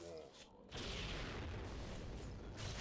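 Grenades go off in the game Warframe as a heavy rumbling boom that swells in after a short quieter stretch and keeps rolling, with the game's sounds mixed under it.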